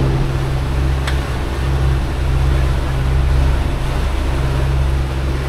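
A sailing catamaran moves over calm water under light wind, giving a steady rushing wash with a low hum and faint creaks, loud and continuous with no talk.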